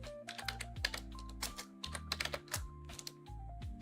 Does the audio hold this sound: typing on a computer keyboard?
yes